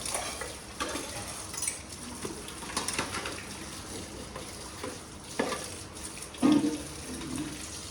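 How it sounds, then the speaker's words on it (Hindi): Dishes are washed by hand at home: faint clinks of cutlery and pots, light clatter and running water go on steadily, with an occasional louder knock, and no one speaks. "चले अभी अब बर्तन धुलाई कर लूँ।"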